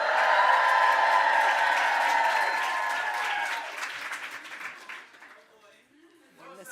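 An indoor audience breaks into loud, sustained clapping with a few cheers. The applause is dense at first, then thins and fades out over several seconds until voices take over.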